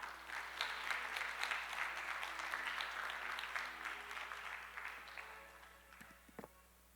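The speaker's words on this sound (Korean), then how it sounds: "박수 부탁드립니다" Conference audience applauding as an author is introduced on stage, a soft, distant round of clapping that swells, holds, then thins out to a few scattered claps and faint footsteps.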